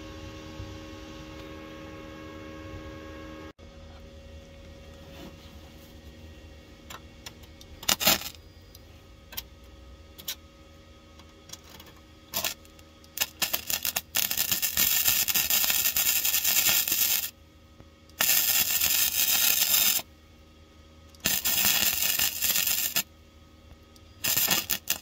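MIG welding on a rear floor pan repair panel in a Ford Cortina Mk4 Ghia 2.3 V6, with several loud bursts of crackling, sputtering arc running for a few seconds each, broken by pauses and light clanks against a quiet workshop hum.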